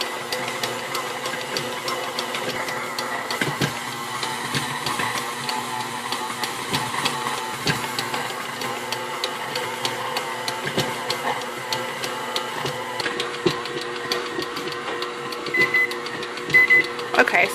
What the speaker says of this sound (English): if your mixer starts jumping because it's a pretty firm dough, just lock your mixer so it won't do that.